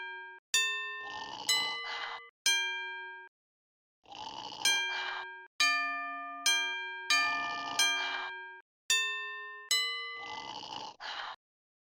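Video game donkey bells in Scooby-Doo! Showdown In Ghost Town: bright dings ring out in quick groups of two or three, each tone decaying, alternating with a deep grunting snore between them.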